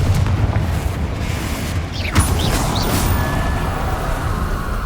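A Confringo fire blast spell erupts in the game Hogwarts Legacy, a loud booming burst over dense, rumbling magical combat noise, with a sharp crack near the middle and a sustained roar throughout.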